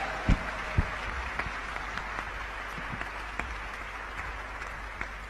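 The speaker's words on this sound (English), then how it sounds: "With a warm round of applause, please." An audience applauds to welcome a guest speaker at a speech event: a fairly faint, steady wash of clapping from a distance, with a few sharper individual claps standing out.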